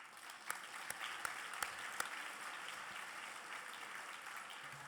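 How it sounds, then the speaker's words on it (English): An audience at a lifetime achievement award event applauds, a steady, fairly distant wash of clapping with a few sharper individual claps standing out early on. "and let's applaud."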